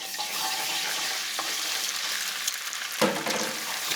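An egg cooks in hot bacon fat with a loud, continuous sizzle for fried rice, and one sharp clack rings out partway through.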